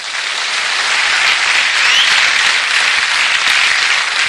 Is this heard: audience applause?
yes